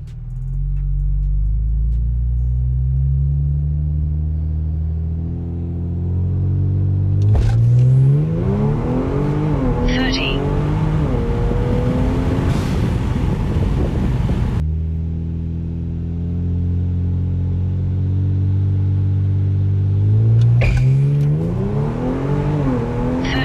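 A Kia Stinger twin turbo does parking brake launches, the engine idling low, then revving hard and accelerating with rising gear pulls, repeated twice with a brief lift between, loud and close with no talk.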